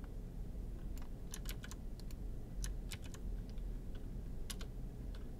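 A command being typed on an Apple Silicon Mac's computer keyboard, with quick, irregular keystrokes clicking close by over a low steady background hum.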